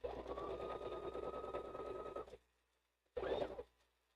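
A sewing machine stitches in two bursts: a steady two-second whir, a brief silence, then a shorter run, close by and fairly quiet.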